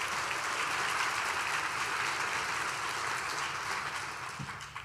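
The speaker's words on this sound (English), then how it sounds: "And let's give our students another round of applause." Dense audience applause fills a school district State of the Schools address, a steady wash of many hands clapping at even strength before tapering slightly near the end.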